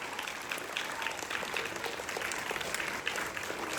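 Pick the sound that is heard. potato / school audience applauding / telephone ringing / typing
school audience applauding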